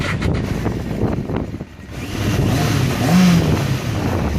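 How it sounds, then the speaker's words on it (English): A Yamaha XJ motorcycle engine runs steadily and then revs higher, past 4,000 rpm, its pitch climbing and holding, loud and close throughout with no talking. "because I'm probably revving more than 4K at the moment"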